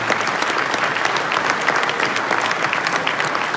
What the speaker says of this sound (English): A little bit of round of applause and some recognition for Mrs. Strauss